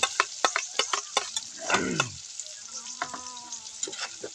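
Onion and flaked tilapia fry in a pan, with close rapid spatula taps and stirring scrapes over a sizzle and a short louder hiss in the middle, followed by softer scattered clicks.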